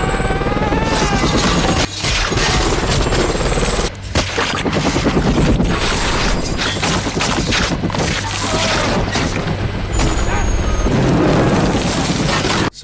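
Gunfire in a zombie film: a sniper fires on zombies from a distance while a helicopter fights nearby, giving dense, loud, continuous blasts, booms and crashes over a rumbling mix, with brief drops in the action.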